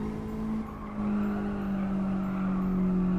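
Steady engine drone of a car lapping a circuit in Gran Turismo 7, likely a Mazda Atenza Sedan XD or Toyota Sprinter Trueno, holding a continuous loud tone with a slight pitch dip and rise as it drives through the lap.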